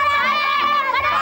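Many voices of a crowd shouting together during a street brawl, a dense continuous clamor close by with no pause.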